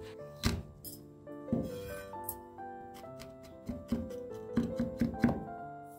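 A knife chops garlic cloves on a cutting board with scattered, fairly quiet knocks. They start as isolated strikes and turn into a quicker run of taps, over a soft musical background.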